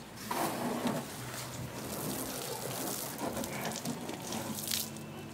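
Garden hose spraying water while washing a car, a steady hissing gush with splashing on the bodywork, fairly faint and continuous without talk.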